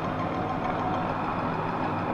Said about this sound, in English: She's on full throttle. But the engine doesn't respond.